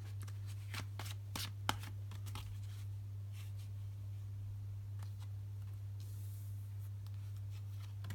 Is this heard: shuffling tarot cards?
yes